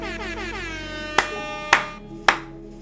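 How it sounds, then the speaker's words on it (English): A sustained, brassy horn blast sounds with several sharp claps or hits punctuating it near the end. "Let's just do some more air horns."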